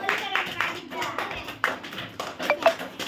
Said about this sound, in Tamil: கைத்தட்டுங்க எல்லாரும்.